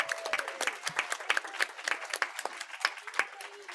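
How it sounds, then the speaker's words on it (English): An audience at a San Francisco Unified school board meeting claps in a moderate, scattered round of applause, fairly distant and steady throughout with faint voices mixed in. "Para, let's give them a big round of applause."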